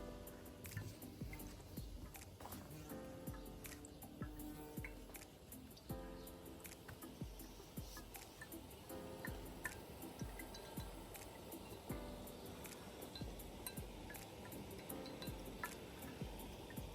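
Floral water hydrosol, distilled from orange peel, cinnamon, cloves and spices, drips from a copper still into a collector: faint, irregular, closely spaced drips and small ticks against quiet background hiss.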